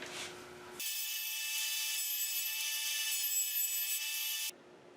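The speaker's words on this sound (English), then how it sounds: "Just use my joiner planer to get rid of the excess epoxy on this and clean it up." A jointer planer cleans excess epoxy off a glued wood board, a high, steady cutting whine that starts abruptly, holds for several seconds with slight grinding variation, then stops sharply into quiet room tone.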